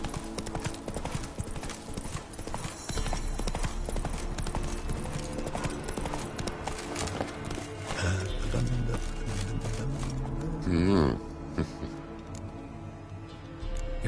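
Hoofbeats of a horse galloping steadily in The Witcher 3 game, a fast continuous clip-clop close by, with a brief whinny and game music and effects underneath.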